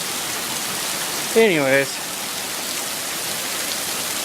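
Steady rain falls outside a garage, a continuous hiss that fills the whole stretch, while someone speaks briefly partway through.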